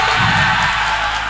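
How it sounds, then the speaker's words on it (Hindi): Audience at a magic show on stage cheering and clapping, a loud dense crowd roar with whoops, brief and sustained at close range. "चंदन भाई और ऐसा जी के लिए एक बार जोरदार ताली"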